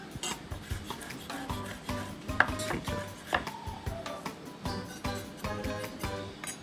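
Knife chopping fresh parsley on a cutting board, a close run of irregular, rapid taps and scrapes with short pauses between bursts.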